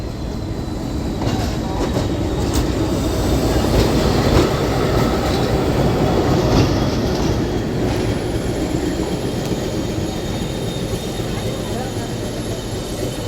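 A passenger train runs on rails near Ooty and is heard from inside a carriage. There is a continuous loud rumble with rhythmic wheel clatter and occasional faint squeals, and muffled voices sit low in the background.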